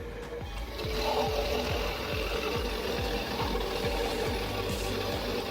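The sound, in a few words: giant log processing machine cutting logs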